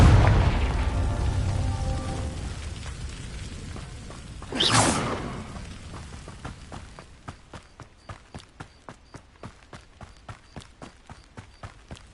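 A Confringo fire spell from Hogwarts Legacy bursts in a loud whooshing explosion midway, after a stretch of rustling movement, and is followed by a steady run of rapid, evenly spaced footsteps.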